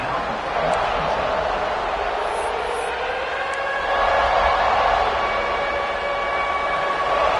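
A large crowd roars steadily throughout, a dense wash of cheering that swells louder midway, with a public-address tone ringing faintly over it.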